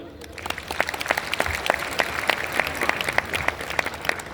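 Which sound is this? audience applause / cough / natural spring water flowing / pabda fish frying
audience applause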